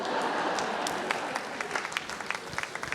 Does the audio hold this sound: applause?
yes